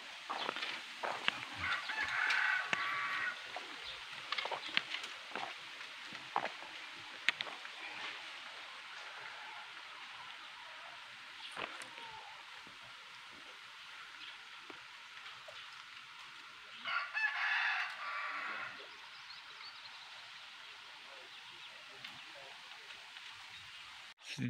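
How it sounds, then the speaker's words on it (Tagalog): Chickens cluck and call faintly in the distance on a rural farm by a river in Mindanao, over a steady patter of rain, with occasional soft voices. "Dito guys, marami pong mga ano, mga manok. Ayun, yung mga manok dito."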